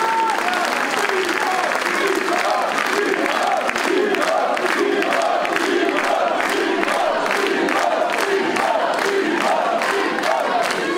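Lively wrestling crowd at a BZW show for Mike Bailey versus Aigle Blanc, filling the room with continuous cheering, clapping and chanting in a rhythmic pulse.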